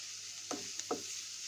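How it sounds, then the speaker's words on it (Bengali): Onion and green chilli frying in a pan for fried eggplant, a faint, steady sizzle with two quick spatula scrapes. "আমরা বেগুন ভাজার ভিতরে এভাবে পেঁয়াজ আর কাঁচামরিচ একটু ভাজা ভাজা করে"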